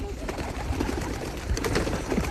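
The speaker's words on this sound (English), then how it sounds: "The pigeon and the parrot are fighting." Pigeons and a parakeet scuffle outdoors in a London park, with a steady dense wash of cooing, fluttering and rustling that continues without a break.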